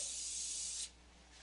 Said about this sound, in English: Give it a spray with some cooking spray.